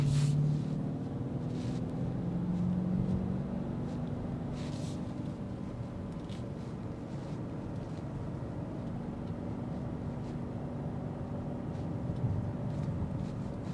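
Engine and exhaust of a 2026 BMW X6 M60i while driving, a low steady drone with a constant tonal hum and road noise, quiet and unbroken, no talking.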